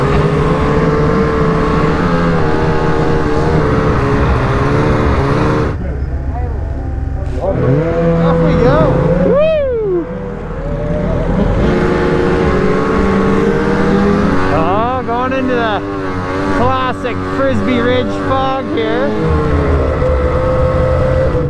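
A big group of about ten snowmobiles rides out together from cabins, engines droning and rising in pitch as they rev and pass, loud and continuous throughout, with brief voices mixed in.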